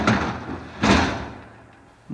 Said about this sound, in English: Shall I open this big cumbersome door?